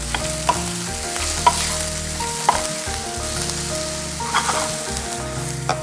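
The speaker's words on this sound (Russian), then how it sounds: "Овощи обжариваются." Sliced vegetables sizzling in oil in a pan for an Indian vegetarian dish while being stirred, steady frying hiss close up, punctuated by a few distinct scraping and knocking stirs.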